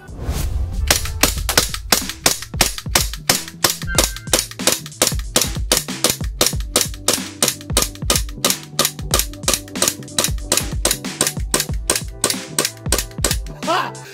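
A WE Glock 17 gas airsoft pistol fires full auto until its magazine is empty, a long rapid string of sharp, evenly spaced cracks, loud and close, with no talking.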